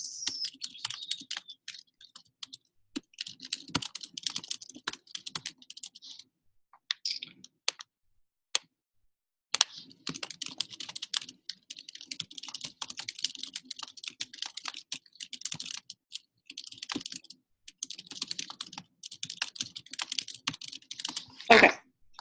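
Someone types on a computer keyboard for a long stretch, rapid clattering keystrokes in bursts with a few brief pauses, close and clear with no talking.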